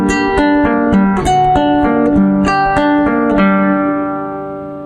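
Plucked guitar notes ring out in a short flowing phrase from the Legend of Zelda Fountain Theme, clear and close, the final note left to sustain and fade.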